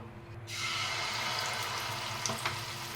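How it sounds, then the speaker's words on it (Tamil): Sweet semolina appam batter hits hot oil with a sudden sizzle half a second in, then keeps frying with a soft, steady crackle that stays fairly quiet. "இப்போ நம்ம ரெடி பண்ணி வச்சுருந்த மிக்ஸை வந்து ஒரு குழி கரண்டியில் எடுத்துகிட்டு கொஞ்சம் கொஞ்சமாக ஊற்றிக்கலாம்"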